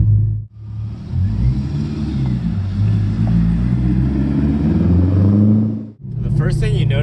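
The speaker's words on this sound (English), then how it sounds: "With this exhaust on there, it's really hard to hear anything else except for the exhaust." Loud, throaty exhaust of a 2002 Chevrolet Corvette C5 Z06 on the road, a steady deep rumble with shifting revs that drops out briefly twice, close and dominant throughout.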